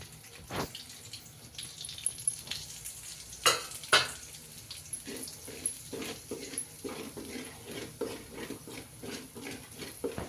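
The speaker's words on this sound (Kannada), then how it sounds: "ಆಯಿಲ್ ಹಾಕ್ಕೊಂಡು ಎಣ್ಣೆ ಕಾದ್ಮೇಲೆ ಧನಿಯಾ ಪುಡಿ ಗರಂ ಮಸಾಲ ಅರ್ಶಿನ ಪುಡಿ ಸೇರಿಸ್ಕೋಬೇಕು" Coriander powder, garam masala and turmeric sizzle in hot oil in a home kitchen, a steady crackling fry with irregular stirring clicks and a couple of sharper knocks, close and continuous without talk.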